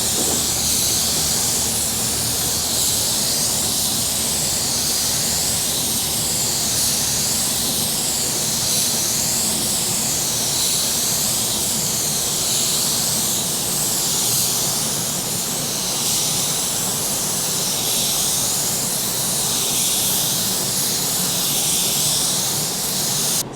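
An AUARITA 898-2 spray gun sprays clear coat with a loud, continuous, airy hiss that stays steady at close range, its tone wavering slightly as the gun sweeps back and forth.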